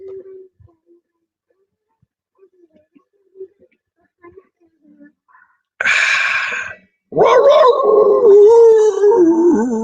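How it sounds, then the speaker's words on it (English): A small yappy dog howls loud and close, a sustained wavering cry that fills the last few seconds after near silence and a brief sharp burst. "Yappy dog."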